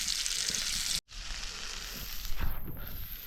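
Steady crackling sizzle of chicken frying on a hot griddle (tawa) outdoors by a river, with a brief dropout near the start and a few soft scraping sounds later.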